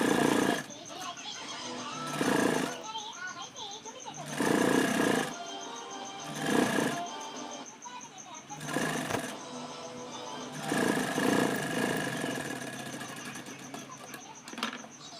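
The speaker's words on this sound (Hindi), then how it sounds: "अंदर की तरफ मोड़कर सिलाई लगा देंगे।" A sewing machine stitches the inward-folded edge of a pot-neck back blouse, its motor whirring in several bursts of a second or two each, separated by pauses, with a voice talking in between.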